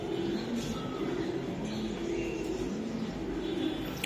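Racing pigeons of a Euro bloodline cooing nearby, soft low repeated coos over a steady background hum, with no talk.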